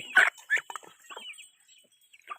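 Chickens cluck softly nearby in a small coop in a few short, scattered bursts, with quiet gaps between them.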